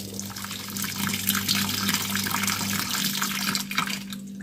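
Water pours steadily into a Sharp single-tub washing machine that has a faulty solenoid valve, a continuous rushing flow with a low mechanical hum underneath that stops partway through.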